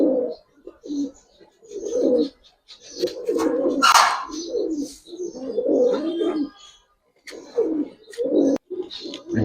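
Giribaz pigeons coo in repeated low, throaty bursts, close and fairly loud, with brief gaps between calls and a few faint chirps mixed in.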